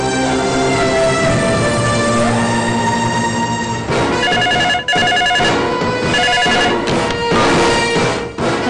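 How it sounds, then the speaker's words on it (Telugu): A telephone rings in a Telugu TV serial scene, its electronic ringtone repeating loudly over dense background music for several seconds, with no talk. "రాజా కోసం ఫోన్ చేశాను."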